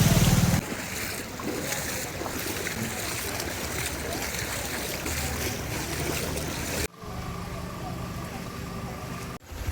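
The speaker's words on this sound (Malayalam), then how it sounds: "അവിടുത്തെ കടൽ കയറ്റമാണ് ഈ കണ്ടുകൊണ്ടിരിക്കുന്നത്" Sea surge at Kannamaly on the Kerala coast sends waves flooding onto the road, a loud, continuous roar of rushing water and wind buffeting the microphone. It cuts off abruptly near the end, leaving quieter water noise.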